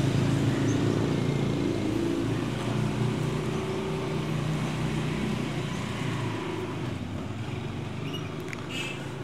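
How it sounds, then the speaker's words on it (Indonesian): Noisy motorbike engine heard from inside a small one-person camping tent, a steady loud droning rumble that continues without pause and fades slightly toward the end. "suara motor berisik."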